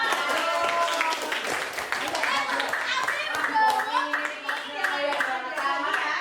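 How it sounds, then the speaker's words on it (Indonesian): Schoolchildren in an elementary school classroom clap their hands together in a steady, close burst of applause lasting several seconds, with excited young voices and chatter mixed in. "Tepuk tangan ya dong."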